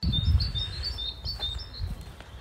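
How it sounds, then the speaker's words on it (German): Small birds chirp and tweet in a spring allotment garden, a run of bright, quick calls over a low outdoor rumble, fairly close and with no talking. "Hört ihr die Vögel zwitschern?"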